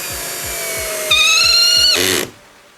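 A Procraft Industrial PA18DFR cordless drill-driver drives a screw at second speed with torque setting 10. The motor whines loud and close, rises in pitch partway through, then stops sharply with a brief clatter, and no one speaks.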